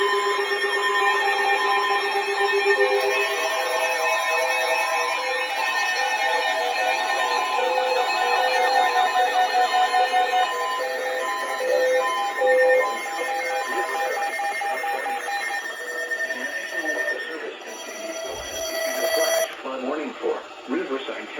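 Emergency Alert System alert tones for a flash flood warning sound loud and continuous, a steady multi-pitched electronic warble lasting about twenty seconds before a brief break and shift near the end.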